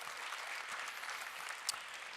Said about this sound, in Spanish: si quiere aplaudir